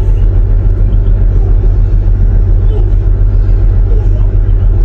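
Close, heavy car engine rumble, a loud steady low drone that continues unbroken throughout.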